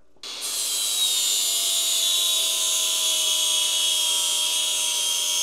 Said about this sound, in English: We don't even need the end, I'm going to saw it off.